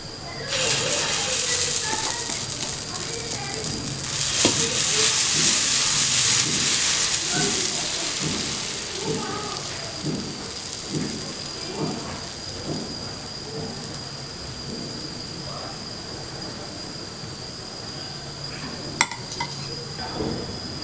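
Dosa batter sizzles steadily on a hot iron tawa, a close, continuous crackling hiss like rain, while someone talks over it.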